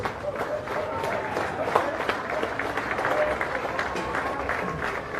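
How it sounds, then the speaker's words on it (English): A rain-soaked crowd in Sydney's Western Suburbs applauds the competing nations at a rugby league emerging nations grand final, a steady mid-distance wash of clapping and crowd murmur throughout. "How about a huge round of applause, ladies and gentlemen, for all the nations competing over the last couple of weeks"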